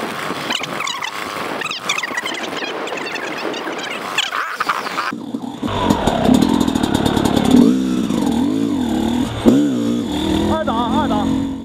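A motorcycle fitted with a Lectron Billetron Pro 38 carburetor climbs a slope at low revs, its engine note rising and wavering loudly and close, with talk over the early part.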